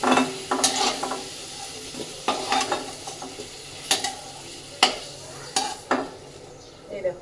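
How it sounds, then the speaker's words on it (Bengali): Fried potato pieces are stirred and scooped from hot oil in a home kitchen, with repeated close metal scrapes and clinks of the utensil against the pan over a steady sizzle, no talking. "এবার এগুলো সমস্ত আলু তুলে নিই।"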